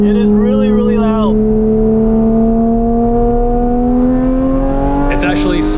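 A 2018 Porsche 911 GT3 (991.2) with a loud bypass exhaust, driven on a racetrack, holds a sustained, droning engine note whose pitch climbs slowly and steadily as it revs, heard close and continuous throughout.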